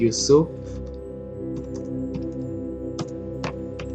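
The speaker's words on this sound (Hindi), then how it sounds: "टैब प्रेस कीजिए और यहाँ पर टाइप कीजिए" Sparse, light keystrokes tap out Excel data entry on a computer keyboard over a steady low hum, following a brief voice at the start.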